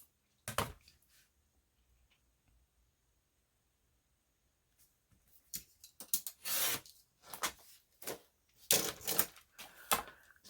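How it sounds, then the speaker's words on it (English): Scissors or a cutter slicing a 4-inch strip from a used greeting card, a single snip then quiet, followed by a burst of close, crisp papery cuts and rustles. "I am going to cut a strip that's 4 inches wide"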